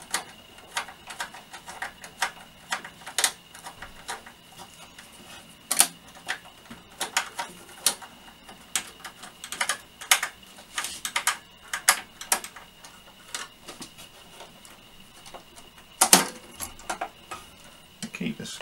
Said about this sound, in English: Bits I've screwed in, so I'll just unscrew those.